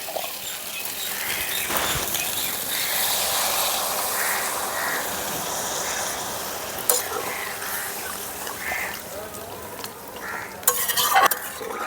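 Water goes into a sizzling vegetarian curry of potato, pointed gourd and paneer, giving a continuous close frying hiss with stirring scrapes and a few sharp clinks of a utensil against the pan.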